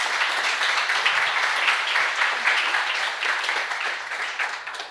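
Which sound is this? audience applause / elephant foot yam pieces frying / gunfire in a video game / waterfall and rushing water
audience applause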